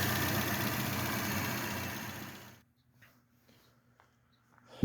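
A car engine with a suspected faulty alternator idles with a steady close rumble for a few seconds, then shuts off into near silence broken only by a few faint clicks and a final knock.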